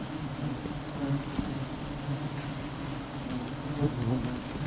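A swarm of bees drones around a large hive during honey hunting outdoors, a steady, dense buzzing hum that holds at an even level throughout with no voices.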